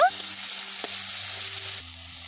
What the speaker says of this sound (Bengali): এরপর দিয়ে দেব টমেটো কুচি একই সাথে দিয়ে দেবো বাটা মশলা আবারও ভালোভাবে মিশিয়ে নেব